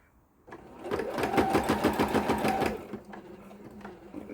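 Sewing machine with automatic backstitch stitching a vinyl project bag, a loud, close rapid mechanical chatter starting abruptly, running for about two seconds, then stopping with a few faint clicks.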